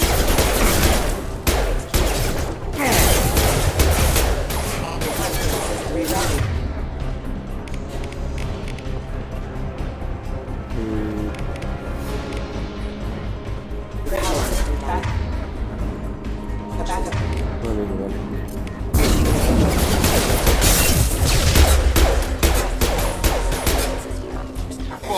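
Mass Effect 2 combat against mechs: bursts of rapid gunfire and heavy impacts come in loud clusters with quieter stretches between, while characters talk over the fighting.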